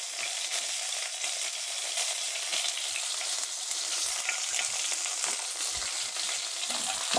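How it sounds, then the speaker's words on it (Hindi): Cumin seeds and curry leaves frying in hot oil, a steady close hiss and sizzle that holds continuously throughout with faint crackles and no talking. "इसको थोड़ा सा फ्राई करेंगे।"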